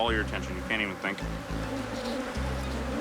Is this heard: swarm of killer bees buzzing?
yes